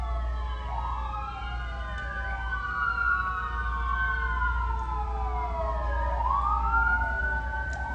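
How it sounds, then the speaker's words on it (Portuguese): Ambulance siren wailing continuously at a street crossing, its rising and falling tone sweeping up and down over steady low traffic rumble, loud and close throughout. "aí fica a ambulância passando, buzando o tempo todo."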